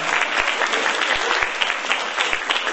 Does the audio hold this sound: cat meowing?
no